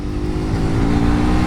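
A KTM Duke 250 motorcycle engine revs high and steady, a loud, buzzy mechanical drone with layered harmonics that climbs slightly over a second and a half, without any talk.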